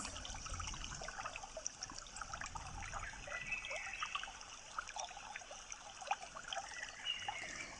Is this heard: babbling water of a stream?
yes